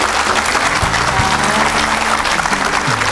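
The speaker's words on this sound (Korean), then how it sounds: "큰 박수로 모시겠습니다" Loud, sustained applause from a large lecture audience welcoming a speaker, dense clapping that fills the whole stretch without a break.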